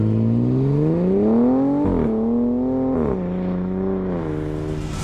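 A 2026 Dodge Charger Sixpack accelerating hard, its engine tone climbing steadily with brief dips at each gear change, loud and close for the whole stretch.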